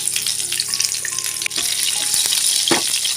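Green chillies drop into hot oil with cumin seeds in a pan and sizzle loudly and continuously, with a sharp burst as they hit the oil and a brief stirring scrape.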